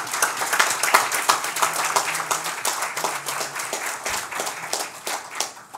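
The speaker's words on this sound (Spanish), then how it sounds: "para quien pide un fuerte aplauso" Warm audience applause at a Dominican commemorative event, a full crowd clapping steadily with sharp individual claps standing out, fading slightly toward the end.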